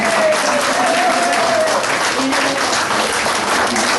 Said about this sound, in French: je voudrais qu'on fasse un grand applaudissement